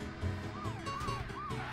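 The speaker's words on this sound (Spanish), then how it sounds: "y así eso es con las sirenas" A police car siren in the video game Wobbly Life wails in repeated rising and falling sweeps over a low engine hum, moderately loud, with no talking.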